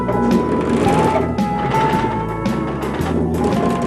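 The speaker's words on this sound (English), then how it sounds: "the most important piece of equipment of all in this macho line of work, the sewing machine." An industrial sewing machine stitches parachute fabric with a rapid, steady mechanical clatter, up close and loud, broken by occasional knocks and pauses.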